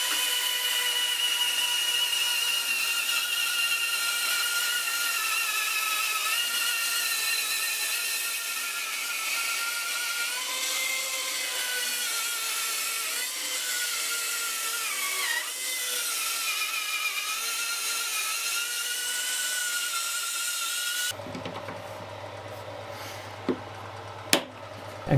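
Wood is rough cut for a small camping slot chair, a loud, continuous high-pitched cutting whine that holds steady for about twenty seconds before stopping abruptly, leaving a low hum and a couple of faint knocks.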